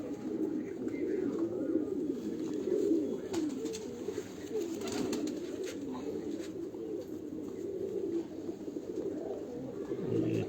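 Sialkoti pigeons kept in a rooftop coop coo continuously, a close, low, rolling murmur of several birds layered over each other with no pauses.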